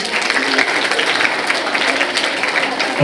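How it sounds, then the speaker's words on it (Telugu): A hall full of students at a girls' junior and degree college applauds loudly, a dense, steady clapping that holds at the same level throughout. "ఒకసారి అందరూ గట్టిగా క్లాప్స్ ఇవ్వండి"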